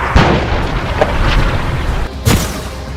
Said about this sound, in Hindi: एयर स्ट्राइक, टैंक से बमबारी